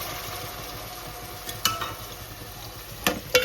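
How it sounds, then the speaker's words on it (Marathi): Onion, tomato and cauliflower frying in hot oil give a steady close sizzle, broken by a few sharp scrapes and clatters as the pan is stirred. "थोडं फ्लॉवर पण तेलावरती मस्त भाजून घ्यायचं"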